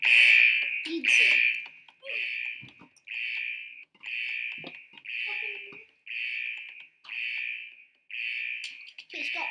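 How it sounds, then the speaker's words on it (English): A repeated electronic beep sounds in a steady series of about ten evenly spaced tones, loud and close, with faint voices and game noise between the beeps. "stop beeping. That's annoying."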